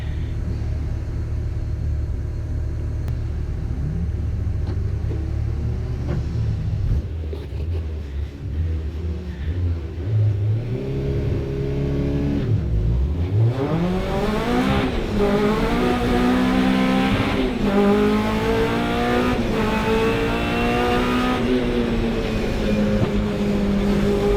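Honda VTEC Challenge race car at a race start at Oulton Park circuit, the engine droning low, then dipping before revving hard and climbing through the gears in rising whining sweeps, loud and steady from inside the car.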